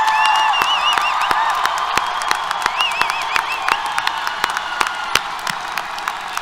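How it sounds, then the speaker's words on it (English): A large crowd at a university commencement applauds steadily, dense clapping filling the space with some scattered cheers and whistles over the sustained ovation. "let's give them one more big round of applause"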